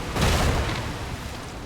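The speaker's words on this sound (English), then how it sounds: "Fire the cannons!" A deep, booming cannon blast in a pirate naval video game rolls out and fades over a second or so, loud and close, with no voices.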